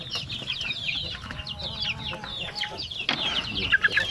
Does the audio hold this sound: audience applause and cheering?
no